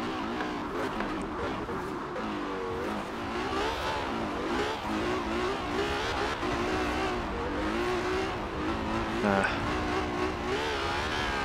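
Stock 2017 Ferrari 812 Superfast V12 in Forza Horizon 4 revving and shifting on a dirt course, engine rising and falling with brief tire scrabble, steady and fairly loud throughout.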